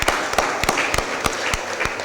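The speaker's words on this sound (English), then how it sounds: "Let's give him a round of applause." Audience applause at a city board of aldermen meeting welcoming the parks director, a scattered run of claps with a few sharp, louder hits standing out over a steady patter.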